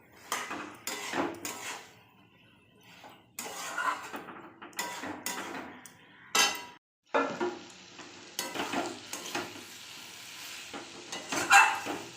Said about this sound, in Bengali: ডাল দিয়ে কষিয়ে নিলাম কিছুক্ষণ